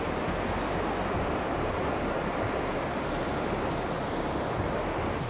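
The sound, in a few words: Victoria Falls waterfall roaring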